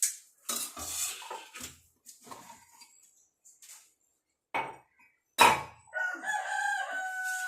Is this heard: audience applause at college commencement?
no